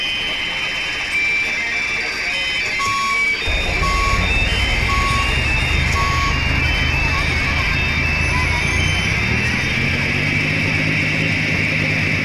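Reversing beeps from a vehicle in Bus Simulator India, a steady repeating electronic tone sounding over a constant engine drone and background game noise, holding at an even loudness throughout.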